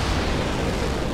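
A rocket lifting off during a rocket test, a loud, dense roaring rush that fills the whole short moment without any break, no voices present.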